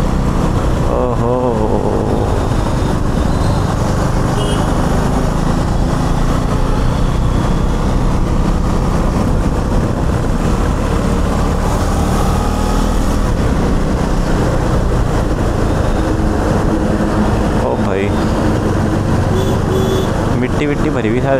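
A heavy truck loaded with soil rumbles past close by at night, heard from a riding KTM Duke 390, its deep engine noise mixing with wind and road roar while a voice talks over it.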